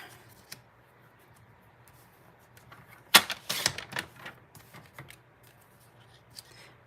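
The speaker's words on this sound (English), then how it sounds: "So I'm just going to basically cut your strips different" Scissors cut through paper strips for a sunflower card project, a short crisp burst of snips and rustling after a quiet stretch, close and fairly soft with no talking.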